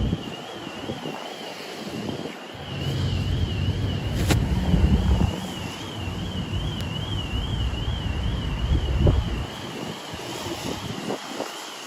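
Steady wind gusts rush and buffet the microphone on a rainy, very windy day in Miami, swelling and easing over a constant background hiss.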